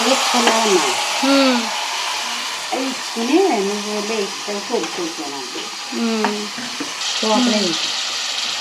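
Minced-meat keema curry sizzles steadily in a pan while it is stirred, a continuous hiss with scraping under a voice speaking throughout.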